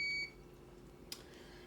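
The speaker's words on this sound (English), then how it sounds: "Sorry if you can hear the beeping, that's my dishwasher." A household dishwasher gives a single brief electronic beep at the very start, clear but short, then fades into a quiet room hum.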